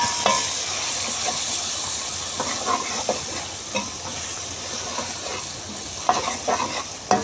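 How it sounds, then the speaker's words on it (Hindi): Red chili, coriander powder, salt and cloves frying in a pan for mash daal, a constant close hiss of sizzling oil broken by intermittent stirring clinks and scrapes, no talking. "दो मिनट तक इसको भून लेंगे"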